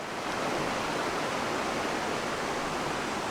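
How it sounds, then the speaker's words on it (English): Broad, steady rush of the Pigeon River rapids rolling through a rocky canyon, a continuous loud roar of churning water with no break or voices. "Pigeon River, this is called the Rapids."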